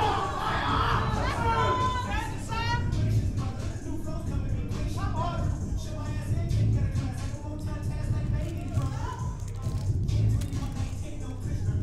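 Crowd at an athletics competition cheering and shouting encouragement for an athlete on his third attempt, a steady loud roar of mixed voices and shouts with a commentator talking over it throughout.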